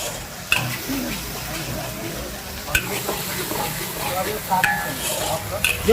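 Tomato sauce being stirred into schezwan chutney in a pan, with a soft steady sizzle and scraping spoon strokes, plus a few sharp clinks against the pan, and faint background noise.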